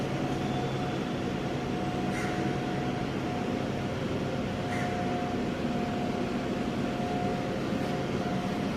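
A Chennai MRTS elevated suburban train running from Chennai Beach to St. Thomas Mount via Velachery on its first trip, giving a steady loud rumble with a sustained whine and a couple of faint squeals or clanks, and no talking.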